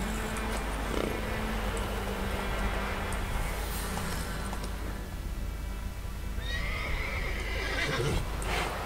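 A horse gallops in the video game The Witcher 3, with steady hoofbeats and game-world ambience running throughout, and a prominent whinny or neigh cutting through near the start and again toward the end.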